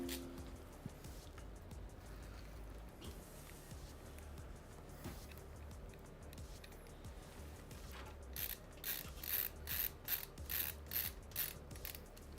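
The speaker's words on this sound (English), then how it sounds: "Let's tighten up all the screws." Screws being tightened by hand inside a PC case built around an Asrock board and Intel Core Ultra 270K Plus in an H6 Flow chassis, giving steady small ratcheting, clicking mechanical turns that grow into sharper, denser clicks toward the end, close and fairly quiet.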